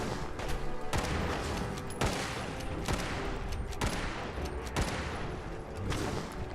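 Fallout 4: Far Harbor video game gunfire, a run of loud, sharp shots at roughly one-second intervals over a constant dense background rumble, with no pause across the stretch.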